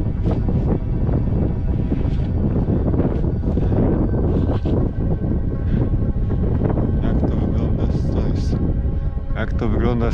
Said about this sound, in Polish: Nie, to wiatr. Myślałem, że tu ktoś krzyczy.